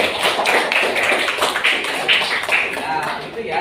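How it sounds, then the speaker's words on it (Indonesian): A classroom group claps in a steady, rhythmic pattern of sharp hand claps, close and fairly loud, for a few seconds with voices faintly mixed in. "Tepuk tangan juga."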